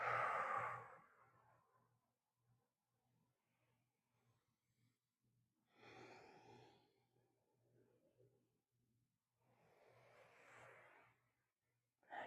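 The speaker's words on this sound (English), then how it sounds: "Breathe deep." Slow, deep breaths during a beginner to intermediate yoga class, with three long soft airy exhales spaced several seconds apart, close to the mic and alone in a quiet room with faint background hum.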